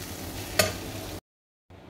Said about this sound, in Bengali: এই তো করলা ভাজি